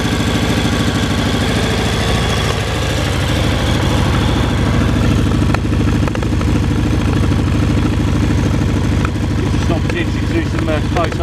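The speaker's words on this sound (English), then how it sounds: "the only noise worthy of any note is the soundtrack from that really nice Red Power Scorpion exhaust" A motorcycle fitted with a Red Power Scorpion exhaust runs steadily close by, its continuous loud engine note thrumming throughout with some clatter, while someone talks over it.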